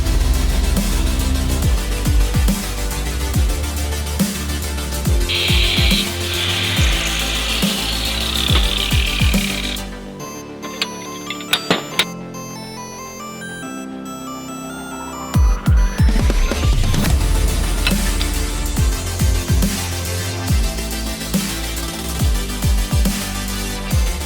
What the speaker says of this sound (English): when I start cutting I find it easier to look down and see the reflection of the grind sparks reflecting off the score line